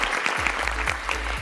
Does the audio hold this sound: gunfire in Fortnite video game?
no